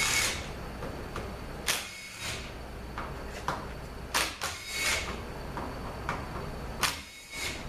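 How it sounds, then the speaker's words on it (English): Torx bolts being backed out of the TCM on a ZF6HP26 transmission valve body, heard as a string of sharp metallic ticks, clicks and tool clatter at close range, with no talking. "the first thing we're going to do is take these 6 bolts out and take the TCM off"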